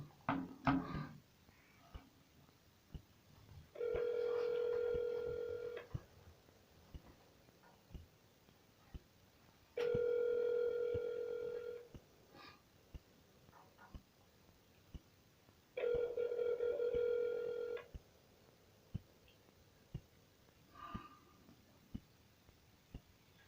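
A phone line rings out over speakerphone in three long, regular bursts of ringback tone separated by quiet gaps, with faint clicks and handling noises in between, before a call is answered.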